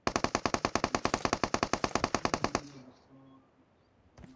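A PUBG Mobile game weapon fires a fast, loud automatic burst of about two dozen evenly spaced shots, then cuts off into quiet in-game ambience with a single faint shot near the end.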